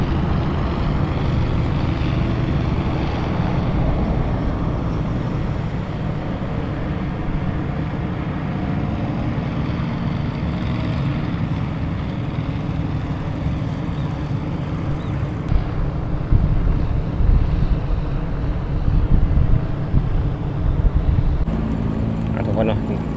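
A paramotor engine droning during a flight over Vang Vieng, Laos, a continuous low rumbling buzz with steady wind noise across the whole stretch, loud and close.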